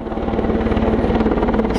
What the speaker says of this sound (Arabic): هذه طائرة هليكوبتر عسكرية أردنية تحلق في سماء فلسطين